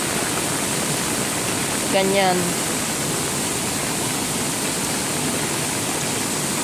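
Runoff from heavy rain pours through a drain in a continuous rushing wash, with someone briefly speaking over it near the start.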